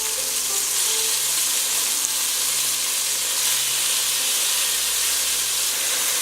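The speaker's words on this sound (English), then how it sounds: "So we're just gonna put about half of the beef in at a time and let it get nice and brown on all sides." Beef browning in a Dutch oven for a Vietnamese beef stew, giving off a steady, loud, unbroken sizzle and frying hiss with no pauses and no talking.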